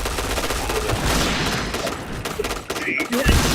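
Rapid video game gunfire rattles in dense bursts, close and loud, with layered booms and a synthetic announcer-style voice cutting in briefly.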